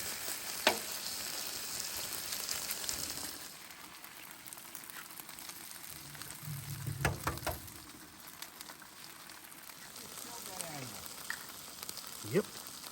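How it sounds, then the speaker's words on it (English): A stir fry cooks at a camp during an elk hunting trip, with a faint, steady sizzle and occasional utensil scrapes and knocks. A brief low murmur sits under the crackle, and the sound stays soft and distant throughout. "Old stir fry cooked up."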